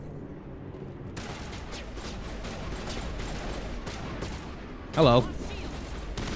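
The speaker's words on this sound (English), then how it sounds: "He had a shotgun." Shotgun fire in the Mass Effect video game arrives as repeated sharp blasts over busy combat noise, followed by a short loud burst with a voice heard briefly.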